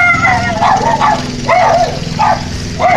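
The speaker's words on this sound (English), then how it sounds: "He's got dogs that yelp." Two small dogs yap next door, giving repeated high yelping barks in quick bursts over a steady engine drone.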